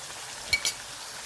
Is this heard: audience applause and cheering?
no